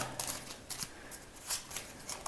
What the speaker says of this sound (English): I'm going to take the remaining piles, I'm going to shuffle them up a bit.